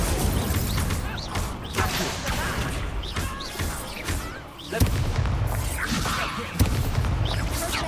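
Incendio fire spell cast in Hogwarts Legacy, a dense stream of loud whooshing bursts and crashing impacts that never lets up, with sharper blasts near the middle and end.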